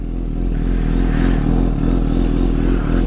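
A Suzuki GSX-S750 motorcycle fitted with a Power Commander rides off, its engine a loud, steady low drone close by, with some clatter and scraping mixed in.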